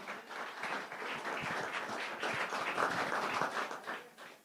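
Audience at a book launch ceremony applauding, a dense steady round of many hands clapping for a few seconds before tapering off, with no speech over it.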